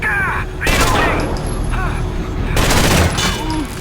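Bursts of rapid automatic gunfire in Rainbow Six: Vegas, two loud dense fusillades separated by a brief lull, with game voices and a player talking underneath.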